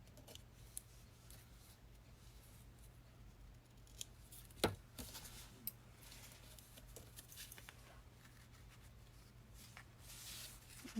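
Scissors trimming card paper for a double pocket fun fold card, with soft, close snips and light paper rustling scattered over a quiet room hum.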